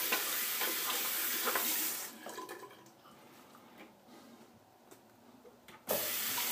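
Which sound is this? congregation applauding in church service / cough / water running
water running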